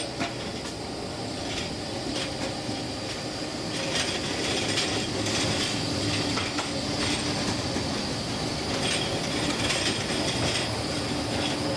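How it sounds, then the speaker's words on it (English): A train rolls past in Basel, Switzerland, a sustained rumble of wheels on rails with rhythmic clicks and metallic squeals riding over steady city noise. "Here comes another train."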